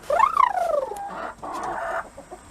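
Backyard chickens cluck and squawk close by as they are let out of their coop before a hurricane, one rising call followed by a run of busy, overlapping clucks.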